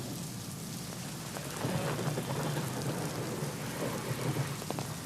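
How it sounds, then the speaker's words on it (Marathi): Heavy, steady monsoon rain pours down in Pune in a dense hiss, with a low rumble of thunder rolling underneath; no voices. "पुण्यात गेल्या दोन दिवसांपासून मुसळधार पाऊस सुरू आहे"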